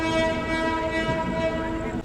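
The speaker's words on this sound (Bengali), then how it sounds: "নির্দিষ্ট সময় থেকে আমাদের ট্রেন 8 মিনিট দেরিতে ছাড়লো হাওড়া স্টেশন থেকে" A crowded passenger train bound for Chennai runs after leaving Howrah station, a steady rolling rumble with a sustained horn tone held throughout, close and continuous.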